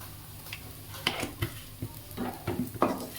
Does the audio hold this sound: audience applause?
no